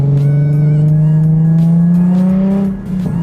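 Inside the cabin of a Nissan NISMO fitted with a Tomei titanium dual exit exhaust, the engine gives a loud, steady drone that climbs slowly in pitch under acceleration, then dips briefly near the end.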